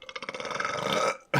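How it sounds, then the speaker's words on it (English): A single long, loud burp rolls out close to the mic, rising and rattling for about a second, then cut off by a sudden burst of noise. "You had a pre-burp, like pre-ignition to that rocket blast, bro."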